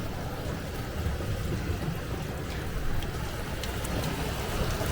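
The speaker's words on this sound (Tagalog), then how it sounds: "lakas ng ulan." Steady, dense rain hiss at a beach in Puerto Princesa fills the whole stretch, a constant broadband wash with no pauses, loud and close.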